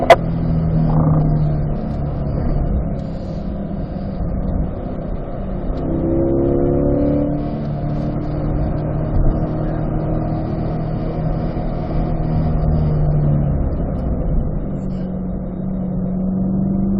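Car engine on a race track during a performance driving lesson, a steady loud drone with rising revs around the middle as the car accelerates through the gears toward a chicane.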